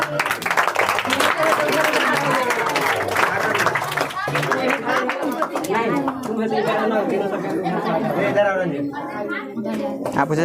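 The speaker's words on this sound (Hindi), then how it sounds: "बजाइए, ताली बजाइए।" Applause at a Teacher's Day celebration in a coaching center: scattered audience clapping runs beneath loud, overlapping chatter and talking, with voices dominating throughout.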